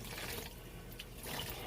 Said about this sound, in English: So I'm going to rinse them now and try to rinse this until they become clear.